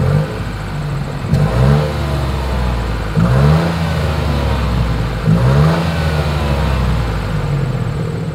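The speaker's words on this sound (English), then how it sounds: "As always, here is that exhaust clip." Engine of a 2023 Nissan Rogue revving through its single exhaust, three rising blips roughly two seconds apart over a steady idle, heard close and fairly loud with no talking.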